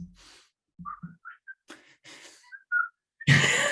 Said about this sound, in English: not by the whistling, but by the song